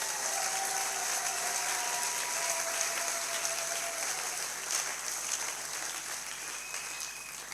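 A church congregation at a French-language service claps together in a dense, sustained burst of applause, steady and fairly close, slowly easing toward the end with no clear speech over it.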